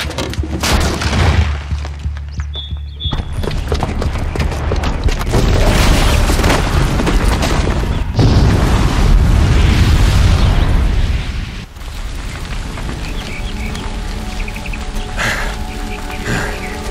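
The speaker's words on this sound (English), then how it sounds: "the booby trap on the bomb downstairs is gonna get set off" A bomb blast set off by a booby trap in Horizon Zero Dawn, a loud sustained roaring rumble with bursts and crackling debris lasting many seconds before fading to a lower din.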